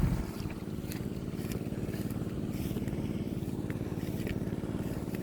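A farm engine-driven water pump runs on a dry field, making a steady, rapid chugging drone at close range that is mostly free of talk.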